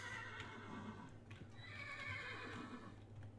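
A horse in the Minecraft video game whinnies loudly, followed by clip-clopping hooves and a second, quieter neigh, all quite near with no talk over it.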